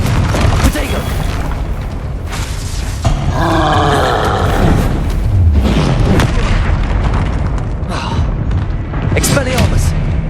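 Booming spell explosions and roaring magical blasts in the video game Hogwarts Legacy, loud and dense with repeated heavy impacts and rumbling swells, overlapping spoken incantations throughout.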